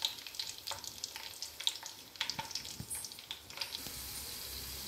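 About ten garlic cloves frying in oil with mustard and cumin seeds for a tamarind pickle, a faint, fizzy sizzle with scattered light crackles and occasional utensil taps, no voices.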